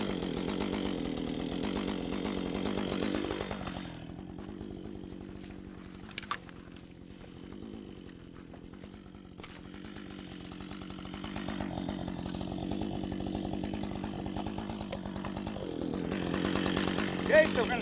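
A chainsaw cuts slowly into the compression side of a tree, its engine rising, dropping to a lower idle, then revving again, while someone talks over it at times.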